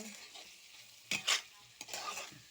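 Turmeric and red masala being sautéed in oil, with brief stirring scrapes and a couple of short sizzling bursts over a quiet background, fairly close and moderately loud.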